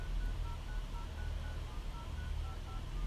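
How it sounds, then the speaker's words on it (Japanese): Telephone keypad dialing tones sound in a steady series of short evenly spaced beeps over a loud low hum, as a call is placed to a tiny Niche Phone-S voice-and-tethering mobile phone. "それで今これね電話の方をかけてみますね。"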